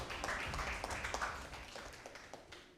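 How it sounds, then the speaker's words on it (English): Audience applause at a school national debate competition, a steady wash of clapping from a sizeable crowd that gradually fades, with scattered sharper claps standing out near the end. "a round of applause"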